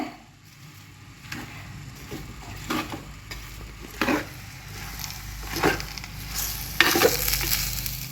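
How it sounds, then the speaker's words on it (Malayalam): Amla (Indian gooseberries) sautéed and stirred in hot oil for a Kerala-style thokku, giving a steady close sizzle with repeated scraping stir strokes that rise and fall through the clip, no talking. "അതുകൊണ്ടാണ് ഇങ്ങനെ എണ്ണയിലിട്ട് നല്ലോണം വഴറ്റുന്നത്."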